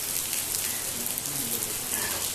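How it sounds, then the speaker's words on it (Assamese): Steady rain falls outside a guest house at a university campus, a dense, even patter of drops on surfaces heard alone at moderate level without talk. "আজি আমাক বৰষুণে ভালকৈ লগ নেৰা হৈছে।"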